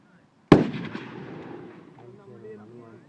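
A single sharp gunshot cracks out loud and close, then rolls off in a long fading echo lasting a few seconds outdoors.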